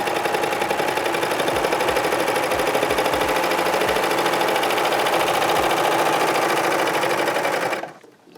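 A serger overlocks the edge of a piece of fabric with a loud, continuous, rapid mechanical whir and clatter that runs for nearly eight seconds before stopping abruptly.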